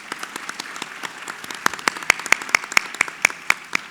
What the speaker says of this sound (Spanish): Agradecemos el aplauso para nuestros panelistas.